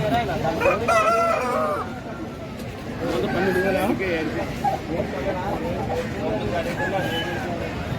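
Native country roosters at a village poultry market crow loudly and repeatedly while clucking hens and a babble of people talking fill the background.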